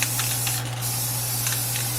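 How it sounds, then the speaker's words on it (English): Rust-Oleum Ultra Cover semi-gloss clear coat sprays from an aerosol can in a continuous close, loud hiss with slight pulsing, over a steady low electrical hum. "as I spray this"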